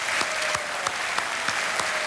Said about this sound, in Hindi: तालियों के साथ आप उनका स्वागत कीजिए